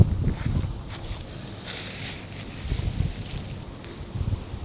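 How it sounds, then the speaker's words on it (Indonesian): Wind gusts buffet the microphone outdoors while a 2-person Sumo Yufu ultralight tent is being pitched, with low rumbling bursts and faint rustling of fabric throughout and no one speaking. "agak susah juga nih kalau di kondisi berangin seperti ini"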